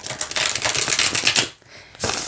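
New Ask The Witch tarot cards, slightly stiff, are riffle-shuffled by hand in a rapid, crisp, fluttering rush, a short pause, then another burst of shuffling, close and loud.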